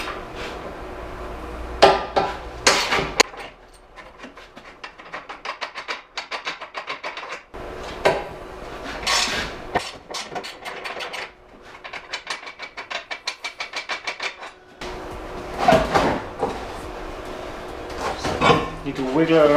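Metallic clanks, ratcheting and rattling as two 17mm bolts and the aluminum rear rebar come off a 2001 Porsche Boxster 986, close and intermittent, with someone talking between the bursts.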